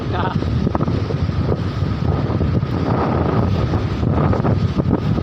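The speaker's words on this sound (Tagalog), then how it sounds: "Yung hangin kasi nagpapalakas ng alon dyan." Steady, loud wind at a beach buffets the microphone throughout, with a constant roar that masks any faint surf or background sounds.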